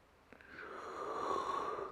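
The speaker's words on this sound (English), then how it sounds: "and a big yawn." A person lets out a big, drawn-out yawn during a nervous-system relaxation exercise. It rises and swells steadily and is breathy and fairly quiet, with no talk over it.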